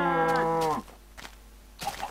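A cow in the Minecraft video game lets out a single drawn-out moo that falls in pitch, loud and close, followed by a few faint thuds and rustles.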